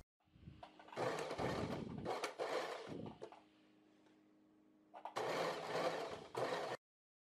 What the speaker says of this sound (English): here is where we are going to baste stitch